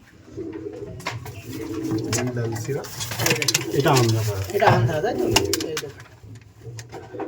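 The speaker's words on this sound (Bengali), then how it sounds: "লাল শিরা ফুল শিরা কাল শিরা সমস্ত পায়রা সঙ্গে ম্যাড্রাসি পায়রা সব দেখাবো" Pigeons in a loft coo in soft, repeated throaty calls, close and overlapping, mixed with a voice talking throughout. The birds include Lal Shira, Kal Shira and Madrasi breeds kept by pigeon fanciers in Behala.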